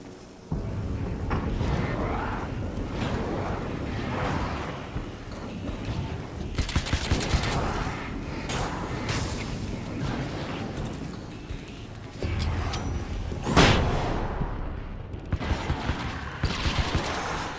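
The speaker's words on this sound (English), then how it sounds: "the flashbang is not doing what it used to do" Flashbang grenade bursting in the video game Alan Wake's American Nightmare, a sharp loud blast standing out from busy gunfire and game noise, followed by further scattered bangs.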